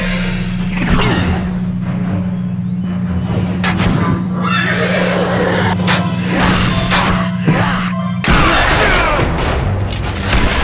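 Horses neigh in the PSP video game Ben 10 Alien Force, their whinnies mixed with booms, whooshes and crashing game effects in a busy, loud soundtrack.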